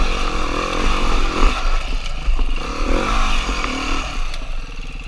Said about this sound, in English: in case I launch my bike at him